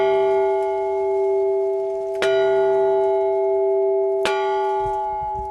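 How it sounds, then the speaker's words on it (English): Maryville bell rung at a graduation ceremony, two clear metallic strikes about two seconds apart, each followed by a long, sustained ringing tone that hangs in the air. "I'm honored to stand here today to ring the Maryville bell to recognize the"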